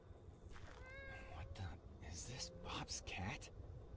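A cat in the game Greyhill Incident gives several short meows over a noisy background, with whispery voices and rustling mixed in around the calls.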